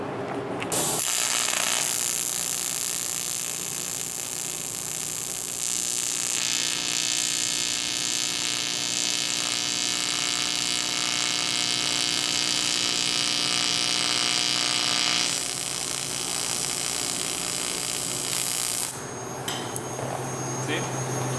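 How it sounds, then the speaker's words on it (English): TIG welding repair on a cast aluminum pipe fitting: a steady, close electric buzz of the arc holds almost without a break for about eighteen seconds, then cuts off near the end. No talk is heard. "I think I'm going to weld it all out now"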